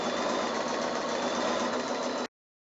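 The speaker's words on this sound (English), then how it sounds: "I've sewn those last side bits on the same as I did in the first place" A sewing machine runs steadily while stitching quilt block pieces for a kimono foundation-pieced block, a continuous close mechanical whir that holds for about two seconds and then cuts off abruptly.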